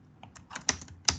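Someone typing SQL on a computer keyboard: a short, quick burst of several crisp key clicks at close range, two of them sharper and louder, with no talking.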